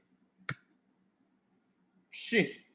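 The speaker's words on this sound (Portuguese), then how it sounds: "Vou dar um Enter aqui." Computer keyboard in an Excel session, two sharp separate key presses a couple of seconds apart, close and crisp, the second slightly longer, over faint background hum.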